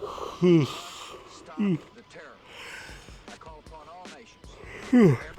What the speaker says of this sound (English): I tried to keep the yawns away, but the yawns are here